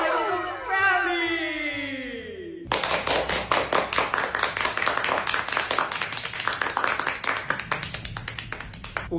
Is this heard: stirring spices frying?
no